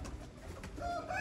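Red-eyed pigeons coo softly, with a few low, rolling calls rising toward the end over faint background noise.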